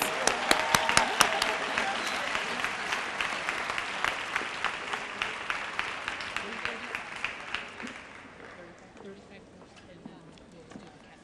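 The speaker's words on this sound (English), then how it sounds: "Let's give a round of applause for our 30-year recipients." An audience at a service awards ceremony applauds, a dense wash of clapping with some sharp individual claps, strong at first and then tapering off toward the end.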